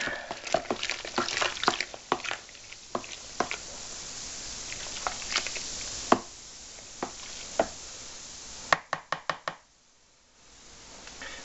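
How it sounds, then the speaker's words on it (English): Fermenting peach wine must is stirred in a container with wet, sloshing swirls and soft knocks. A few sharp clacks come near the end before a brief quiet. No one speaks. "Go ahead and stir that up."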